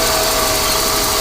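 A Ford EF Falcon engine idles steadily at a normal speed with a constant, even hum and a faint tonal drone. No rise or stumble is audible over the short stretch, and no one speaks.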